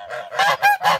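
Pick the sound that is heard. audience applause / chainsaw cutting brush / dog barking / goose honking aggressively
goose honking aggressively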